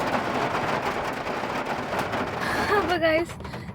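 A dense, steady hiss of heavy rainfall near Nilambur, with a voice briefly heard near the end over the downpour.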